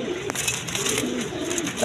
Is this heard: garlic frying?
no